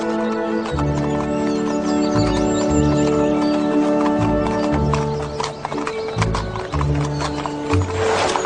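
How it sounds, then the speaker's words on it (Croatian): Cartoon horse hooves clip-clop in a steady trotting rhythm, with a neigh and a whinny breaking through, all over continuous background music. "Moj veri konj me očekuje."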